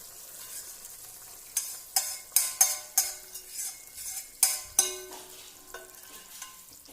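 Melted sugar goes into a pot of rice payasam and is stirred with a spoon, giving a run of sharp rhythmic scraping strokes and faint sizzle, close and clear with no voices.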